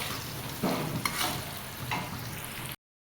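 Amla being stirred with spices in a pan makes a few soft scraping strokes over a low sizzle before the sound cuts off abruptly.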